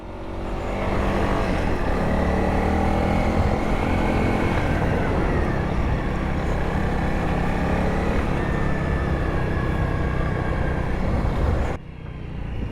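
A Honda CRF 300L dual sport motorcycle rides along in third gear with a loud, steady engine drone and wind rush, close to the rider, easing off briefly near the end.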